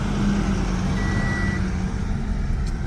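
A construction truck working on a residential driveway in a new subdivision, heavy engine rumble and a reversing beep tone close by, loud and steady over about three seconds.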